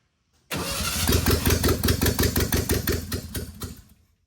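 Air-cooled 1300cc VW Beetle engine cranking and catching on only a couple of cylinders, a loud close rhythmic chugging of uneven firing pulses for a few seconds before it dies away.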